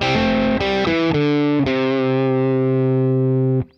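A distorted electric guitar plays a short lick of a few notes, ending on a long sustained note that rings out and then cuts off.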